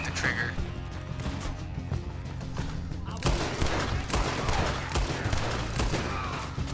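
Gunfire in Red Dead Redemption 2, with repeated sharp shots and crashes that grow denser and louder halfway through, among the game's noise while a player talks.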